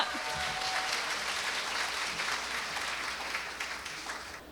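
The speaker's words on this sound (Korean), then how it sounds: "박수로 단상에 모시겠습니다." Audience applause at an indoor ceremony as a speaker is welcomed to the stage: dense, sustained clapping from a crowd that tapers slightly toward the end.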